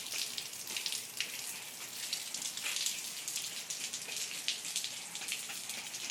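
Steady outdoor rainfall patters continuously, a dense hiss of drops hitting surfaces with no speech over it.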